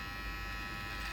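An electric trimmer buzzing steadily and close while freehand trimming a beard, a constant low hum with no voices.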